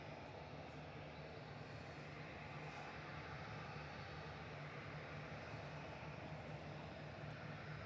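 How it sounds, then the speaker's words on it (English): A Gulf Air Boeing 787-9 airliner departing Manchester Airport gives a steady, broad jet engine roar, heard from a distance at low level and unchanging throughout, with no one talking. "This is Gulf Air Flight 4 heading back to Bahrain in the Gulf Air retro livery."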